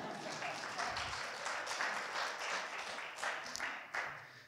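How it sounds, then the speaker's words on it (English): Light, scattered clapping from a lecture audience, fairly faint and uneven, with individual claps rising and falling over a few seconds before trailing off. "You can clap for that if you want."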